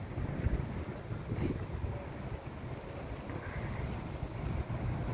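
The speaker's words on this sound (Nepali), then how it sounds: "हावा चलिरहेको छ सरर" Steady wind gusting through an outdoor park in Lusail, Qatar, a continuous low rumbling rush with buffeting against the microphone, no voices, constant and fairly loud throughout.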